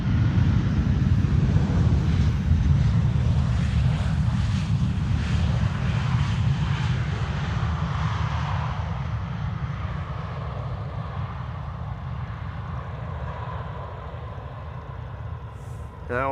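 An Airbus A320 jet lands after a flight from Nador, its steady broadband engine roar loud and close, fading gradually over about sixteen seconds with wind rumble underneath.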